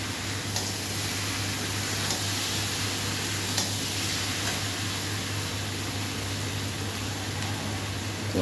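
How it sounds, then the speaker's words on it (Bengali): Potatoes and papaya, first fried with cumin seeds, sauté in a pan, giving off a steady, even sizzle with faint stirring scrapes throughout. "আলুগুলো দিয়ে দিল, ভালো করে কষে নেবে পেঁপে আলু সব।"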